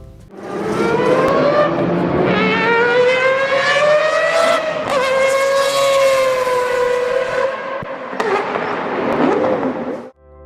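A high-pitched four-rotor rotary engine screams at speed, its whining note climbing and sliding continuously, loud and close with no voices.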